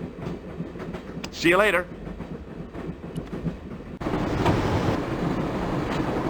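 Train rolling along rails in the point-and-click adventure game Broken Sword, a steady rumbling clatter under a brief spoken line, swelling louder and denser for the final couple of seconds.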